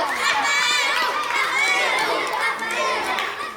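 Children shout and cheer loudly during a school relay game, a dense excited chorus of young voices running continuously.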